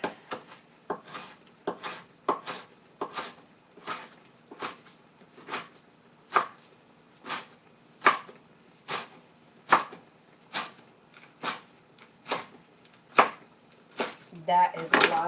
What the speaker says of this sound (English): So I'm going to go ahead and chop this up.